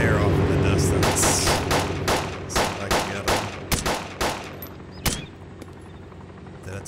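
Rapid gunfire in Arma 2 DayZ, a burst of sharp loud shots in quick succession that thins into scattered single cracks, with a talking voice underneath.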